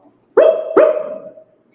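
A person imitates a dog, giving two quick, loud barks in succession, the second trailing off.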